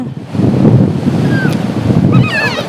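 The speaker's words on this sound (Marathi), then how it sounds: "ती लाट आली" Sea waves wash and rumble close by on a sandy beach, mixed with gusty wind buffeting the microphone, with a faint high whistle near the end.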